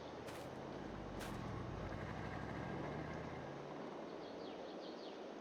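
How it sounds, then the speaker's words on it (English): An old truck rumbles past on a rural farm road, a low, steady engine noise that fades away toward the end, with faint bird calls above it. "Loud old truck"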